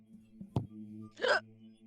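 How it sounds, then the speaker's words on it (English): A single sharp, painful-sounding hiccup, a short gasping catch followed by a breathy burst, heard close and alone over a faint steady hum. "Painful hiccup."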